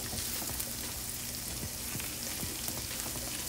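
Butter, garlic and shallots sizzle steadily in a pan, a dense, even frying hiss with scattered crackles and pops, close and constant throughout.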